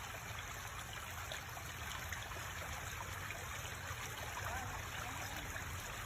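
A river stream flows steadily as a continuous, fairly faint rushing and trickling of water, alone without any voices.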